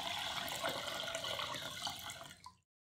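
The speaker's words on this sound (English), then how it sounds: "Add in water till both are fully immersed." Steady splashing water runs for about two and a half seconds, like a stream poured from a tap into a bowl of fenugreek seeds, then cuts off abruptly.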